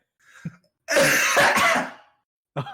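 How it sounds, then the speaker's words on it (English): A harsh, rasping cough bursts out close by, lasting about a second, framed by short throaty sounds before and after. "Did I cough up blood?"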